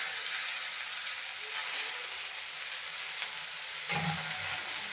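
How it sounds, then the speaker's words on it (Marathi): Chopped okra sizzles steadily in hot oil in a kadhai, a bright continuous hiss heard up close with a brief stirring clatter near the end. "जी आपण भेंडी कट करून घेतलेली आहे ती संपूर्ण या तेलामध्ये टाकायची आहे"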